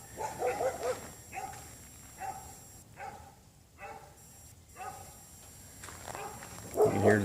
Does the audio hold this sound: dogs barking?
yes